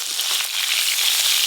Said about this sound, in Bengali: এবার মাছ ভাজবো